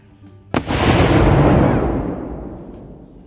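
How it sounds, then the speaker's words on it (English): A Model 1857 light 12-pound gun-howitzer cannon, fired with a reduced charge at a battle reenactment, gives one loud, sharp blast that rolls out into a long, fading boom lasting a few seconds. "the cannon that we're firing today is technically known as a model 1857 light 12-pound gun howitzer"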